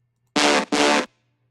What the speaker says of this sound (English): Here you'll notice that I added another element, and that was these horns.